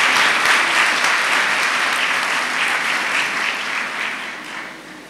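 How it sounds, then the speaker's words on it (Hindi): At a Second Sunday of Easter Mass at St. John's Catholic Church, the congregation breaks into full, steady applause that fills the room and gradually tapers off toward the end, with no talking over it. "आप सबका आपकी भरपूर तालियों में शुक्रिया अदा करता हूं।"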